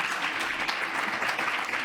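Steady applause from an audience at an academic event, dense clapping that fills the whole moment without any voices over it.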